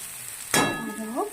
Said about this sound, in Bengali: এইটা ভাজা হতে থাকুক